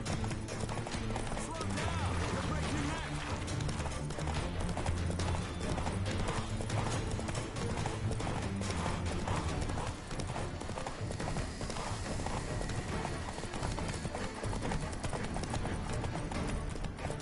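Horse hooves galloping in the video game Witcher 3, a steady, driving clip-clop that runs the whole time, close and loud over continuous game ambience.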